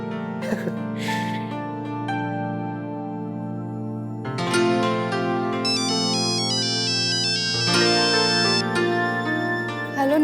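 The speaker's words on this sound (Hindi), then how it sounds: "जल्दी से अक्षर को फोन कर लेता हूँ" A phone ringtone plays a bright electronic melody that repeats in loud, steady phrases, close and clear.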